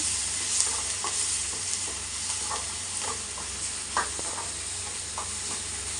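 Kashmiri chili powder and chicken masala being sautéed in oil in a pan, heard as a steady close sizzle under repeated scraping stirs of a spoon, with no one speaking.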